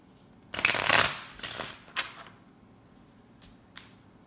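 A crystal oracle card deck is shuffled by hand in a quiet room: one full riffle burst, then a few shorter flicks and taps fading out.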